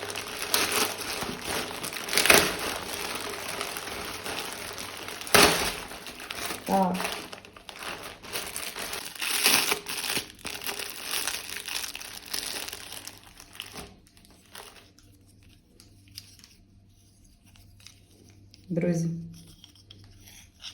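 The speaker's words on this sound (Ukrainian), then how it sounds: "Будемо зараз вдома робити розпакування." A parcel is unpacked at home, with its plastic and paper packaging crinkling and rustling in loud bursts close by. The noise thins out toward the end, and a person speaks now and then.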